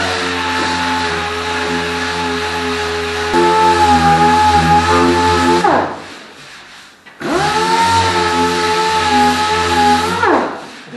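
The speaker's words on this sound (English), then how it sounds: "give it an initial sand with our DA on any of the flat areas that we can get at to knock down the roughness and the high spots" A dual-action sander knocks down rough fiberglass filler on flat areas of Mercedes 280SL bodywork, giving a loud steady whine with two long passes separated by a brief pause.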